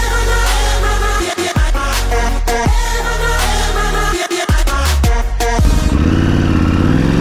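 A KTM 890 Adventure R motorcycle engine drones loudly and close while riding a track, with rising and falling revs, brief throttle cuts and gear changes, plus wind rumble, no talk.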